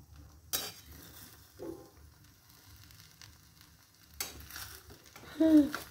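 One-pot biryani being stirred in a cooking pot, with a few quiet scraping strokes and a clink of the spoon against the metal over a faint low sizzle.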